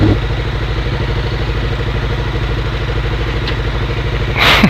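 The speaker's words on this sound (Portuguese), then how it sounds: "Escape aí já instalado na motoca, já tá roncando." A carbureted Honda CB 500 with a polished twin Coyote exhaust idles close by, a steady, throbbing low rumble with even pulses and slight mechanical clatter, heard alone.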